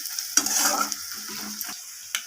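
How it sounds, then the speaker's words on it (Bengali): Ground spices fry with onion in a pan for dal, a soft sizzle broken by a couple of quick utensil scrapes and clinks against the pan, close and alone without speech. "এরপর আমি মশলাগুলোকে পেঁয়াজের সাথে আবারও ভেজে নিচ্ছি"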